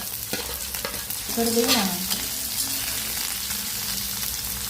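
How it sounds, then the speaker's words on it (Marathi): Onion stirred and fried in a pan while okra curry is being cooked, with a steady sizzle, a louder scraping stir near the middle and soft utensil clatter close by, with no talking. "मग आता कांदा घालायचा. तो थोडा लाल होईपर्यंत भाजायचा."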